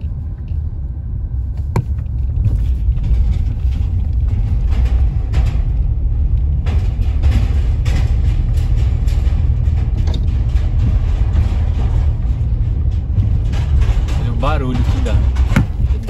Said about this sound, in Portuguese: a ponte, quando os carros passam, faz um barulho. Por ser velha de metal